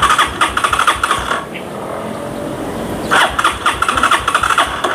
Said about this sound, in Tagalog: Ayan, ayun ang mandar motor natin.